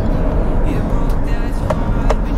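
A Maxus D60 Elite driving under acceleration: a continuous low engine and road rumble inside the cabin, with a couple of brief clicks or knocks sounding over the steady drone.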